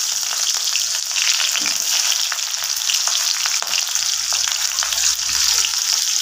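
Onion sizzles and crackles steadily in a hot pan with spiced meat, garam masala and sugar, close and loud, with faint scraping stirs and no talk.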